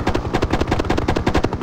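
A helicopter turret gun fires a steady, fast stream of rounds in the Hind 1998 combat flight game, a close, loud mechanical hammering that keeps an even rhythm through the whole short burst, with no talk.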